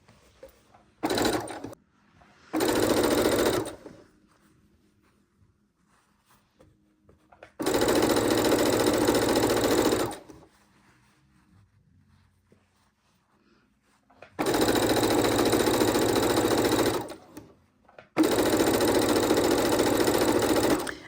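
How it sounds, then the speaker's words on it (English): Sewing machine joining quilt scraps in several separate bursts of loud stitching, some short and some lasting a few seconds, with quiet gaps between. "We are just sewing and sewing and sewing and sewing and sewing, and we'll put all these scraps together."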